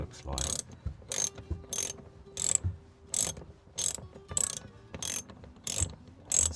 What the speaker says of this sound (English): So I've got a 10mm socket with my socket set.